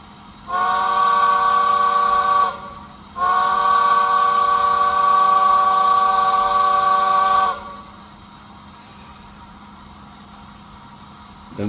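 A model train locomotive sound unit plays a whistle in two long chime blasts, a short one followed by a longer sustained one, loud and close, then falls silent leaving a faint hum.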